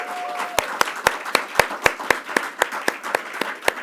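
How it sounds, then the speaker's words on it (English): Steady applause from a crowd, many hands clapping with sharp claps standing out in a fairly even rhythm, loud and close. "let's give another round of applause to our governor"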